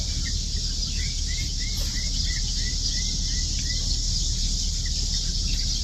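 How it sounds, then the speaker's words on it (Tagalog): Many birds calling outdoors in the morning, repeated bright chirps and short whistled notes at a moderate distance over a constant hiss of insects and rustling background noise. "Tapos ang daming ibon."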